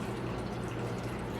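Salt water brine pours into a jar of fermenting garden pickles, a brief soft steady liquid flow heard up close.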